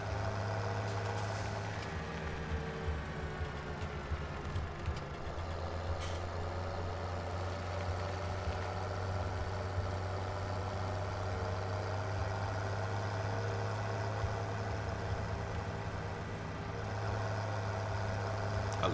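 A Lamborghini tractor in the Farming Simulator 17 video game runs with a steady, low, droning engine note that holds unbroken throughout, like a heavy diesel idling.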